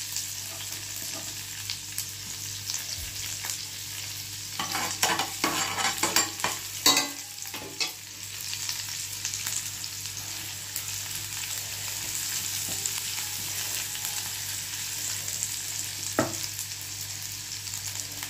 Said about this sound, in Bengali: রসুনটা হালকা ভেজেই নিয়েই আমি পেঁয়াজটাও দিয়ে দেবো এর মধ্যে